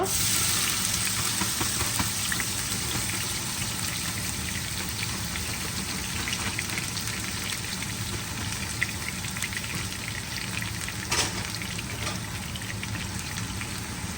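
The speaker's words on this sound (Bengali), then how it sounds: "পেঁয়াজটাকে আমরা বেরেস্তা করব" Chopped onions fry in reused oil to be browned, giving a continuous, even hiss like rain. The sizzle is close and steady with a few small pops.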